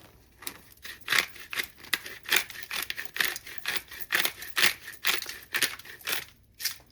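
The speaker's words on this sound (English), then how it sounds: "Then I'm going to put cracked black pepper." A pepper grinder cracks black pepper onto fish in a kitchen, a close, quiet series of rapid gritty crunching bursts in an uneven rhythm, with no talking.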